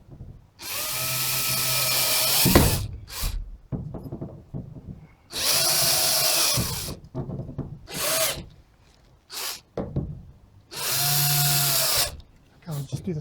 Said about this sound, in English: So I'm not screwing it home yet, just enough to get all the